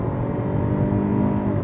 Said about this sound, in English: we're ready for another 0 to 100 test with the Vitara Allgrip